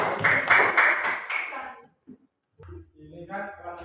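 Elementary school pupils in a classroom give a short round of clapping, a few loud rhythmic claps lasting under two seconds, followed by quiet and then a voice speaking.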